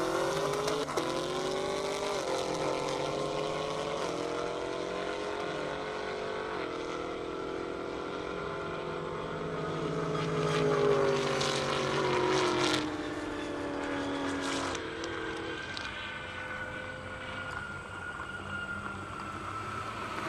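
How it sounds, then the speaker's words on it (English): Powerful engines of a 2022 Toyota Supra and a 2019 Chevy Camaro roar in a half-mile airport drag race, with rising, shifting tones that swell and fade as the cars run at a distance, steady throughout. "Devin McHorter in a 2022 Toyota Supra, and Caden Mallon in a 2019 Chevy Camaro."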